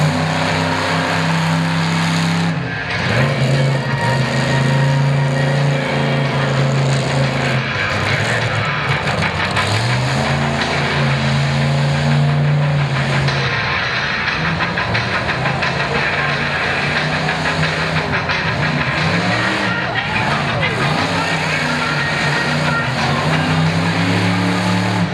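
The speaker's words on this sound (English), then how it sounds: "So Dishman's out here making a racing practice pass for later events in the weekend" A race truck's engine roars steadily as it makes a practice pass at the 4-Wheel Jamboree Nationals in Lima, Ohio, a loud continuous drone that rises and falls in pitch with gear changes, carrying on without talk for the whole stretch.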